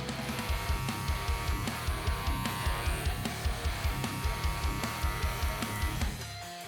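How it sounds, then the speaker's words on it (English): An electric hair clipper fitted with a 0 guard buzzes steadily in a barbershop, a close, even drone with a faint rhythmic pulse as it passes over the head. "I'm gonna be doing the same thing Open clipper with the 0 on."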